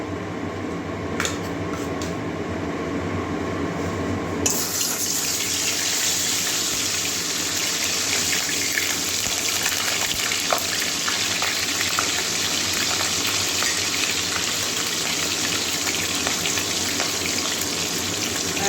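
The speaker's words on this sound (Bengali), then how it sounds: "তেল গরম হয়ে গেছে এবারে মাছের মাথাটা দিয়ে দেবো ভেজে নেবো আগে" Four catla fish heads drop into hot oil, and a loud, dense sizzle erupts a few seconds in. It then hisses on steadily and close up.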